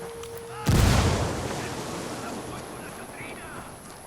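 A frag grenade goes off in Ghost Recon Wildlands, giving one sudden, loud, deep blast that rolls off into a long, fading rumble with faint background sound.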